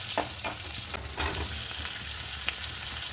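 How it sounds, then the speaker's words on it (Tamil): Garlic cloves and a chopped medium onion sauté in hot oil, giving a steady close sizzle with a few scraping stirs and no talk over it. "ஒரு 5 பல் பூண்டு போட்டுக்கலாம். மீடியம் சைஸ் அளவுக்கு வெங்காயம் ஒன்று எடுத்து கட் பண்ணியிருக்கேன், அதையும் போட்டுக்கலாம்."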